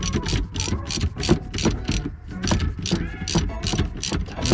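A ratchet with a 10 mm socket tightens the battery bolt on a BMW 328i, giving rapid, close, loud clicking in quick bursts with short breaks between strokes.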